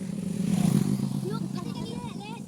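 A motorbike approaches along a forest road, its engine rising and clattering nearby over a couple of seconds while people talk over it.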